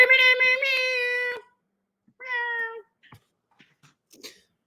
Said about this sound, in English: My buzzer sound is starting to sound like a cat